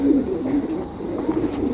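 Pigeon cooing in a collector's loft: low, soft, burbling coos repeat steadily and close, with no talking over them.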